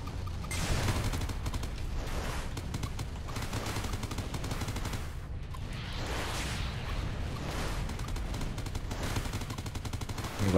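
A Gatling gun on a spaceship in Everspace fires in a sustained rapid stream, dense rattling shots hammering continuously and loudly for the whole stretch with little pause.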